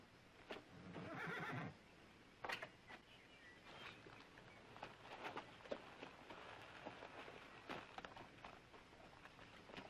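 A cow pony gives a loud, drawn-out neigh near the start. Scattered hoof clops and soft patter-like noises follow at a close but quiet level.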